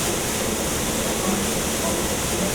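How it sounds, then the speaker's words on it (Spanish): Steady, loud roar of Angel Falls (Salto Ángel) in Canaima, Venezuela, the world's highest waterfall, heard as continuous broadband rushing water with no breaks and no voices. "El ruido provocado por la fuerza del agua es tan ensordecedor que se puede comparar con el sonido de una turbina de avión"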